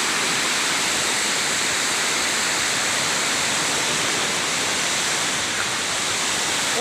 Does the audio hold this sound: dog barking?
no